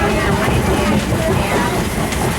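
The Disneyland Railroad steam train runs with a steady rumble and rattling rail noise, close and loud, and a narrator's voice is heard over it.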